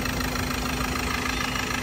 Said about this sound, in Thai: เครื่องยนต์เดิน นิ่งปุ๊บปั๊ดเลยนะครับ